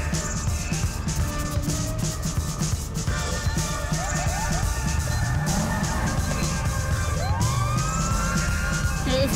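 A police car siren in the LSPDFR video game wails under a dense, steady layer of traffic and engine noise, with rising and falling tones that sweep upward near the end of the clip.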